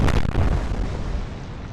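Heavy naval guns on a warship in the Atlantic Fleet game boom in a loud salvo, a sharp blast at the start rolling into a long, rumbling decay.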